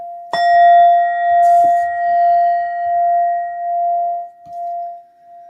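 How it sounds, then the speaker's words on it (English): A brass Indian singing bowl is struck once and rings with a clear, sustained tone that slowly wavers and fades over several seconds. "this beautiful brass Indian bowl with the Buddha in the middle, and that sounds like this."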